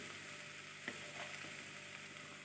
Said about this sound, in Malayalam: അത് ഫ്രൈ ആകുന്നത് വരെ നന്നായി ഇളക്കി യോജിപ്പിക്കുക.